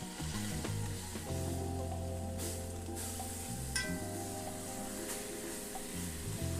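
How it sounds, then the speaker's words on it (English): A chuck roast searing in a Dutch oven gives off a continuous sizzling hiss, with steady tonal hum and music-like tones running underneath. "let that sear on one side for about 45 minutes"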